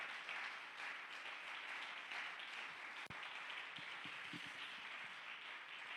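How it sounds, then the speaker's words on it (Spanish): Applause from a church congregation, a quiet, steady patter of many hands clapping at a distance with a single sharp knock partway through. "Alguien que le dé un aplauso a este Dios maravilloso."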